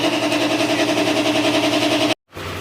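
A rebuilt motorcycle engine, previously wrecked with a crushed piston and bent connecting rod, runs steadily at a loud, even idle, then cuts out abruptly before the noise resumes.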